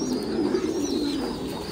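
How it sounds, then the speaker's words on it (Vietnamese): A fantail pigeon coos softly and continuously, a low throaty burbling that stays steady and close throughout the short moment. "đó là chim bồ câu xè này"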